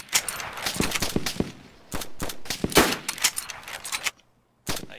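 Bursts of gunfire from a DayZ firefight ring out in rapid volleys of sharp shots, close and loud, then a brief silence before one more burst.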